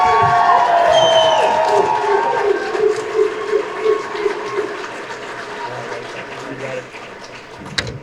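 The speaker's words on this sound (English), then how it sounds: "Let me hear some applause." A crowd at a Veterans Day event bursts into loud clapping and cheering with shouts and whistles, strongest at first and tapering off over several seconds.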